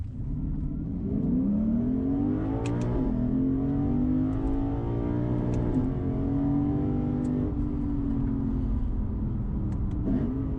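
A 2024 Lexus IS 500 accelerating hard, its engine roaring loud and close with rising pitch through several gear changes, each marked by a brief dip before the revs climb again.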